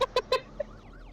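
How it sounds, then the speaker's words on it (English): Three short, bright electronic bleats in quick succession, followed by a fainter blip and a soft warbling tone trailing off, from a siren in the horror game Nightmare House 2; close and clean. "That's not what a siren sounds like."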